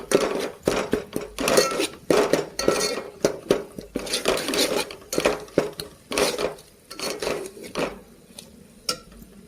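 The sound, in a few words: mixing spiced fish with salt and chili in a bowl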